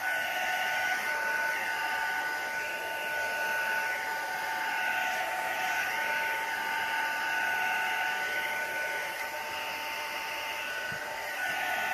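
Hair dryer blowing alcohol ink across a canvas, a loud, steady, close whooshing drone with a faint whine that holds unbroken throughout, with no talking.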